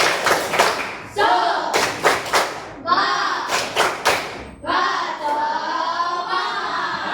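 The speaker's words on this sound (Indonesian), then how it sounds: "Baik, tepuk semangat." A sixth-grade class claps out the rhythmic 'tepuk semangat' routine, bursts of sharp unison claps alternating with children chanting together in a patterned, call-and-response rhythm.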